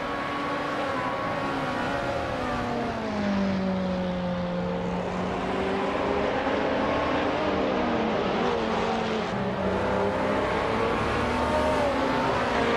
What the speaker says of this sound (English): Maya is driving a 2008 KTM Crossbow GT4.